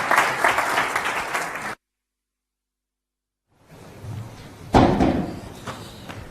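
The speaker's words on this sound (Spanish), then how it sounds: "Darle un aplauso" Audience at a business conference breaking into applause, loud clapping at the start, then an abrupt silence before a second, fuller burst of clapping with a thud.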